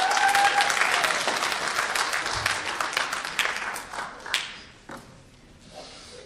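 An audience at a college speech-night debate applauds, a moderate burst of clapping that gradually thins out and fades to scattered claps.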